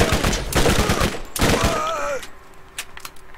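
Rapid full-auto gunfire from a Borderlands weapon rattles in two close, dense bursts, followed by a whining tone and scattered quieter shots as the firing tapers off.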